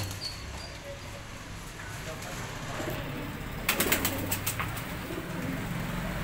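Soft cooing of Sialkot pigeons murmurs in the background, with a brief burst of fluttering wings midway, faint against a steady ambient hum.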